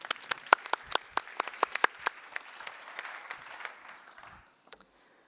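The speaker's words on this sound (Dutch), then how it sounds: "Graag een applaus, dat helpt." Applause from a small audience greeting a contestant about to pitch a project at a livestreamed event in Knokke-Heist: a sparse patter of distinct individual claps that thins out and fades, ending with a lone clap.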